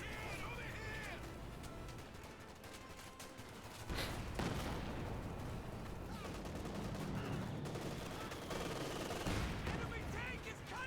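Anti-tank guns fire amid continuous battlefield gunfire in the World War II strategy game Company of Heroes 2, with a heavy boom near four seconds and more sharp shots later, while a voice talks over the noise.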